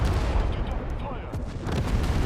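A unit opening fire in the real-time strategy game Tempest Rising, a dense rumbling barrage of booming shots and blasts with heavy low end, continuous and loud throughout.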